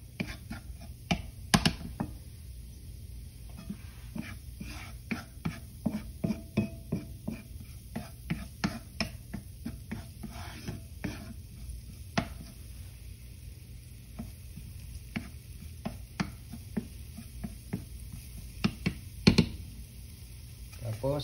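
Garlic being chopped on a cutting board with a knife, a dense run of sharp knocks, steady and close, over a low hum with some kitchen clatter.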